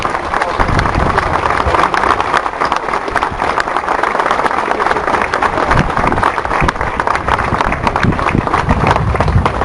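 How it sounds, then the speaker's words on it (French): Dense, sustained applause from a crowd gathered at an outdoor couscous and méchoui meal, honouring the cooks; steady loud clapping fills the whole stretch with no clear pauses. "Je vous demande de les applaudir très fort pour leur courage."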